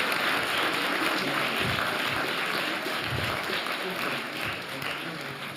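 Audience applause fills a doctoral graduation ceremony hall, a steady wash of many hands clapping that holds at an even level throughout before easing slightly toward the end.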